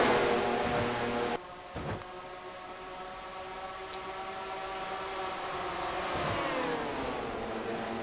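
Stock car engines from a racing video game drone at Dover, several cars holding high steady revs with layered harmonic whines. A sudden dip and bump come early, then the pitch slides down slightly toward the end.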